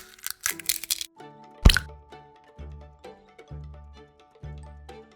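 An egg cracks with one sharp, close snap against a bowl in a kitchen while spiced seafood batter is made, followed by quiet, ringing clinks and small soft taps.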